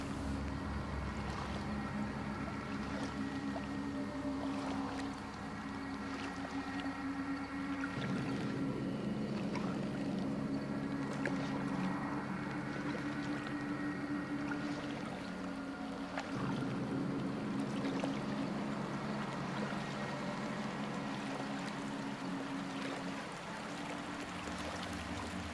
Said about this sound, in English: Just start paddling.